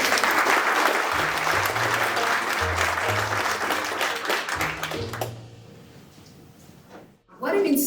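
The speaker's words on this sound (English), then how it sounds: "Let's give all of them a big round of applause again" An audience at a future mobility startup challenge bursts into sustained applause after the presentations, dense clapping that fills the room for several seconds before thinning out and fading, with a voice briefly speaking over it.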